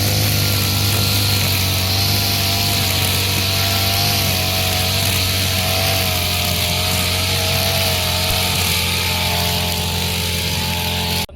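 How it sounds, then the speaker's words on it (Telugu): A petrol Honda brush cutter cuts grass along farm field bunds, its engine droning loudly and steadily up close for the whole stretch. "ఇలాంటిది ఒక గ్రాస్ కట్టర్ ఉంటే మనం ఎకరానికి ఒక 100 రూపాయల పెట్రోల్ తీసుకొని కంప్లీట్గా ఒక గంట లోపలనే గట్లని మొత్తం సాఫ్ చేసుకోవచ్చు"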